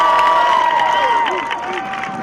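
A crowd at the 2018 Manassas Park High School graduation ceremony gives a short burst of cheering and whooping for the school's state track athletes. Loud, sliding voices ring out at the start and fade a little over two seconds.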